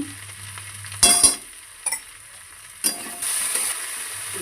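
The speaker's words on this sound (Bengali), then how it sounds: "জিরে আদা ধরে মশলা করা আছে সেটা একটু দিয়ে দিলাম একটু নুন দিয়ে দিলাম" Cumin-ginger spice paste and salt hit hot oil in a mixed vegetable curry, giving a steady close sizzle with a few sharp bursts of frying and stirring scrapes, no voices.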